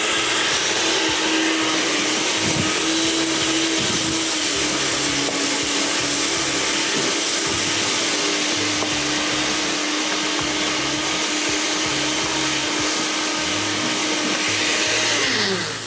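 A blender grinds green masala with a little water for chicken qeema, its motor whirring loud and continuous for about sixteen seconds with a steady churning texture, no speech over it.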